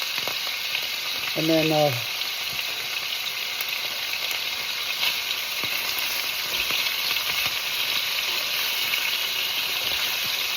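Thin slices of braciola meat frying in a hot pan, a steady loud sizzle with crackling splatter pops throughout; someone says a couple of words briefly near the start.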